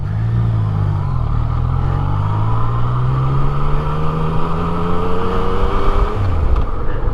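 A great big truck rumbles past very close on a narrow Highland road, with a loud low engine drone that swells and holds, then the pitch drops as it moves away.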